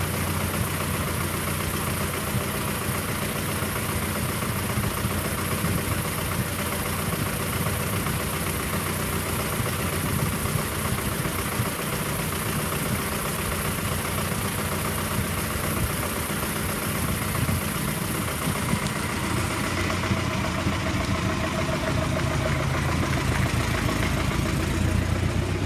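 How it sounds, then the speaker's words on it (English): A 1915 Ford Model T touring car engine idles steadily for the whole stretch, a close and continuous rumbling chug with no talk over it. "This is a 1915 Ford Model T touring car."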